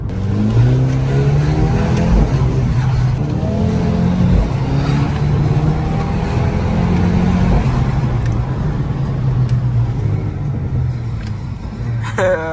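A 700 bhp Audi RS4 with a Milltek exhaust revs and shifts, a loud, continuous engine drone rising and falling through gear changes, close and steady throughout.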